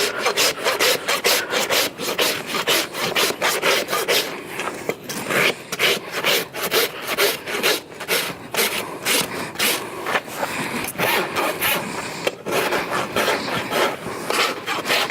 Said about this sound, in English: Now we're going to rasp it down, get it good and flat.